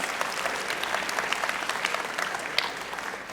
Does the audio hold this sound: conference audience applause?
yes